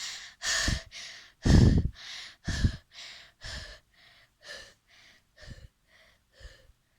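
A person performs a long run of sharp, gasping breaths after surfacing from underwater, about a dozen close, rhythmic inhales and exhales that grow quieter and more spaced toward the end.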